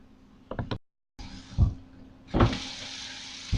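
Water running from a household tap into a sink, a steady hiss that stops briefly, resumes, and swells again with a couple of knocks, close and moderately loud.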